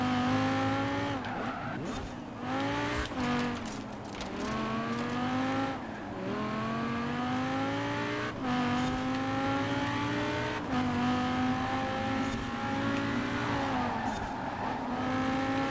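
Racing car in Forza Horizon 4, a heavy Lamborghini Huracan-style supercar, driving hard with a loud continuous engine note rising and falling through gear changes, with tire squeals and skids on corners, close and steady throughout.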